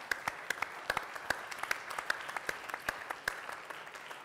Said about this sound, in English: let's give a great round of applause to Gary and everybody who's organizing this